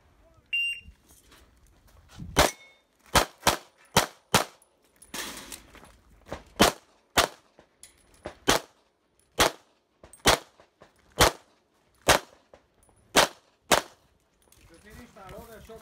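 Gunshots at an IPSC practical shooting world championship stage, about a dozen sharp, evenly paced cracks spread over the run, with a faint beep at the start and quiet gaps between shots.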